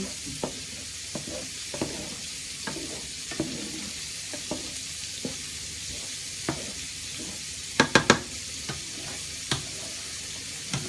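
Mushroom and chorizo risotto sizzles steadily in a pan while a spoon stirs and scrapes, giving scattered taps and a brief cluster of sharper knocks near the end, with no talking.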